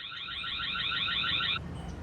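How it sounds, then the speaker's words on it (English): Tamper alarm on a Tapo 4K solar security camera: a loud, rapidly pulsing electronic warble that holds steady for about a second and a half, then cuts off abruptly, with no voices. "It also has a feature where you can set an alarm if anyone tries to tamper with the camera."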